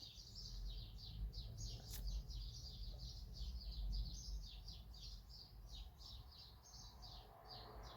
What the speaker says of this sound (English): Happy bird noises.